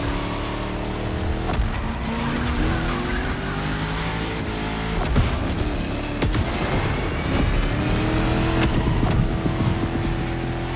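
A 1969 Ford Mustang Boss 429 in the racing game The Crew Motorfest roars steadily through shifts, its engine pitch rising and falling with occasional tire squeal, loud and continuous with no talk.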